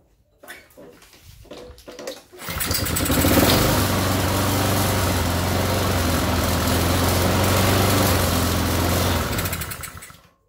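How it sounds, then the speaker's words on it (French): A Honda GCV lawn mower engine that lacks power clatters after a few pull-start attempts, then settles into a loud, steady running drone before cutting off near the end. "nous voilà devant une tondeuse Honda"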